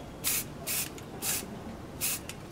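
Spray bottle misting khaki paint onto a gun for a desert camo finish: four short, soft hissing spritzes spaced about half a second apart, close but quiet over a faint background.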